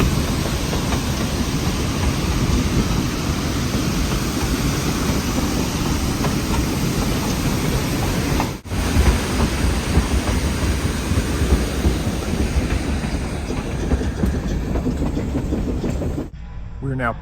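The Silverton steam train runs steadily on the rails with a continuous rumbling clatter, a brief dropout midway, and the sound shifting near the end.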